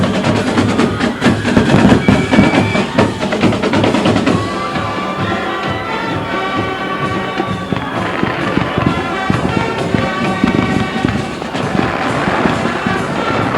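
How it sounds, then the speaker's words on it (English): Fireworks pop and crackle continuously beneath loud band music and a roaring crowd at a 1984 high school homecoming, with dense overlapping bangs throughout. "And the fireworks continue to go off."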